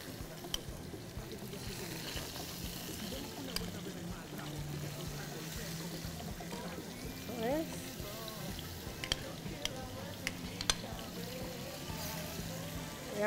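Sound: chicken pieces browning in a pan

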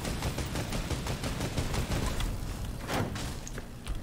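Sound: gunfire in the video game Fortnite

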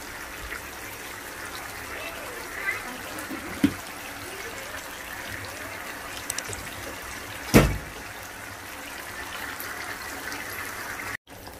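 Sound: water being poured into the brinjal curry pot

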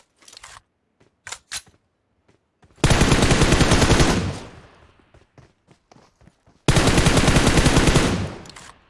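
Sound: gunfire in mobile shooter video game

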